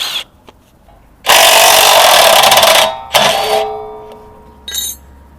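A power tool, like an impact wrench, removes a 17 mm bolt from a Nissan 300Z rear suspension, whirring in a long loud burst, then a shorter one, then a brief final blip, with quiet gaps between.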